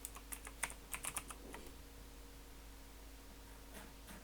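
Quick bursts of keystrokes on a computer keyboard, a fast cluster of close taps followed by quiet, then a few more light clicks near the end, with no talk.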